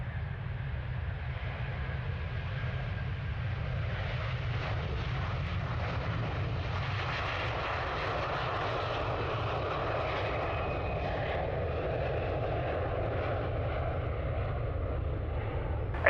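A jet airliner takes off from runway 23 right at Manchester Airport, its engine roar loud, broadband and sustained, building and swelling throughout.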